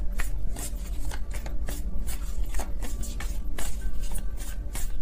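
Tarot cards are shuffled in quick, repeated riffles and slaps, close and crisp, with no voices.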